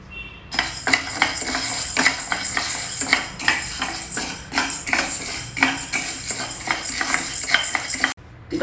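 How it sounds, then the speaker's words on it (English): Half a cup of sabudana pearls rattles and scrapes steadily in a pan while dry roasting over a medium flame, a dense, close clatter of stirring against the metal with no voices. "So here I have taken half a cup of sabudana and we'll dry roast it."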